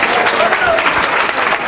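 Audience applause at a spiritual discourse, a dense, steady wash of many hands clapping at once, loud and close, holding evenly for under two seconds.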